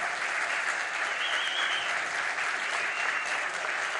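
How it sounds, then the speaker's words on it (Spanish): Audience applause honoring a priest, sustained and even, a thick continuous patter of many hands at steady loudness from start to finish. "Pido un aplauso por su constancia, por su tesón, por su tenacidad, por su fuerza."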